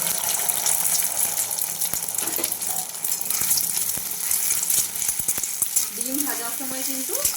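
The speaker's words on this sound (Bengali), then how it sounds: "তেল গরম হয়ে গেছে এরপর আমি দিয়ে দেবো ফেটিয়ে রাখা ডিম" Beaten eggs sizzle and fry in hot white oil in a kadai over a high gas flame, a steady dense crackle throughout with a few clinks and scrapes of stirring toward the end.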